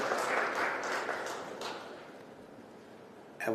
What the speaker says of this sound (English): Another louder applause to our chair.